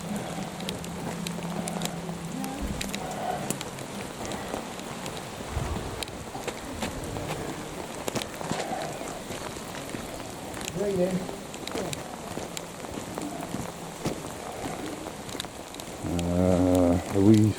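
Heavy rain pours down outdoors in a steady, broadband patter with gusty wind buffeting the microphone, while people talk over it at close range.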